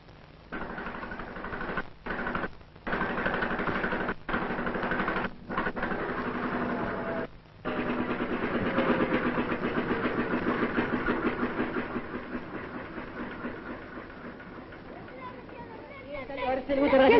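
A motor pump runs steadily on a farm in 1929 Morocco, a continuous engine drone with brief dropouts near the start, fading slightly later, with voices heard faintly over it.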